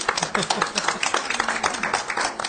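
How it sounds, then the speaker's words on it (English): Room applause at a township environmental commission meeting for a departing employee, a short burst of brisk hand clapping from a small group in the council chamber. "Let's give you your last round of applause as an ANJAC employee"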